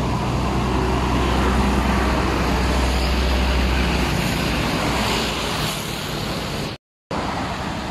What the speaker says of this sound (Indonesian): Truk tronton box Hino.